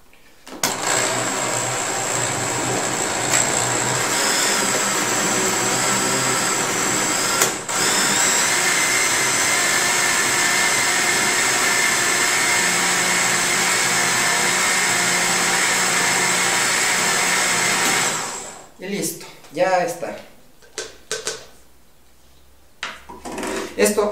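A blender whirs loudly and steadily for about eighteen seconds while making an orange smoothie, then stops, leaving a few knocks and brief talking.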